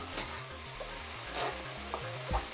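Tuna and new potatoes fry in a pan with a steady, soft sizzle and a few stirring scrapes, faint and close.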